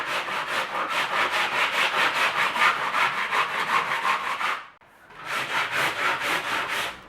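Sandpaper is rubbed back and forth across melamine edge banding in close, steady, rhythmic strokes, a dry abrasive rasp that breaks off briefly for a moment before the strokes resume.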